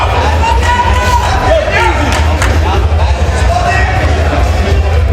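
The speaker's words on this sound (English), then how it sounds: "People in the crowd hyping him up." Crowd at the Dutch Nationals 2025 powerlifting meet cheering on a lifter during a heavy rep, a steady loud roar of voices and shouts close by with no pauses.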